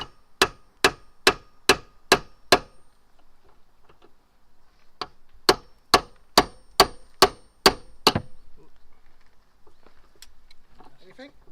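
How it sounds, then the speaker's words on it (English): Hammer striking metal under a car, two bursts of about six to seven sharp, evenly spaced clanging blows separated by a pause, close and loud, with faint voices in between. "Do you mind if I hammer it?"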